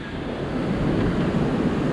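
Rushing river water near the Rambara bridge on the Kedarnath trek in the Himalayas, a loud, steady broadband roar that fills the moment without any talk.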